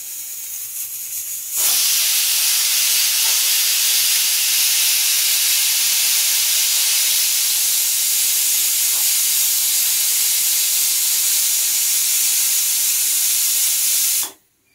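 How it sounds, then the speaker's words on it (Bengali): A pressure cooker holding vegetables with turmeric and salt vents a loud, steady hiss of steam that starts abruptly, holds for about thirteen seconds, then cuts off sharply, with no speech over it. "হলুদ নুন দিয়ে প্রেশার কুকারে ঢাকনা বন্ধ করে এটা আমি সামান্য 2টো সিটি দেব।"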